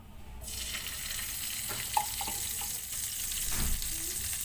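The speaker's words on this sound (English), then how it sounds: "in the same pan, we just have to put our pure ghee" Pure ghee heating in a pan starts as a soft sizzle that swells after the first half-second, a steady frying hiss with a few light clinks and a faint scrape, close and fairly quiet.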